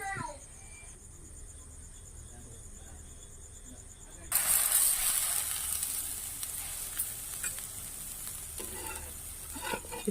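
Jowar roti cooking on a hot pan: a soft, steady sizzle that suddenly swells louder partway through and then keeps hissing. Faint background sounds sit under it.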